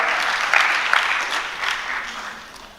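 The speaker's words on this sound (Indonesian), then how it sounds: "Boleh kasih tepuk tangan buat tim praise and worship kita." A church congregation claps for the praise and worship team, steady dense applause filling the room from start to finish and slowly tapering off, with a little crowd noise and no clear speech.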